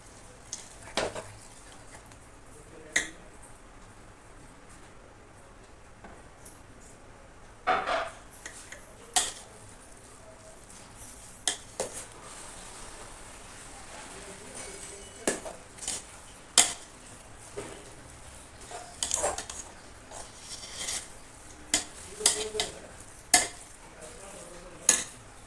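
A spoon knocks and scrapes now and then against a pan as puran of lentils and jaggery is stirred. The clinks are sparse and moderately close over a quiet, low background.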